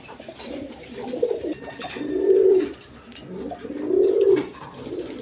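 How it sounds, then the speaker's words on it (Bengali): Several Giribaz pigeons from Rajshahi coo in low, throaty, rolling phrases, with two longer swells that rise and fade, set against faint outdoor background noise. "দেখেন রাজশাহীর গিরিবাস কবুতর বলে"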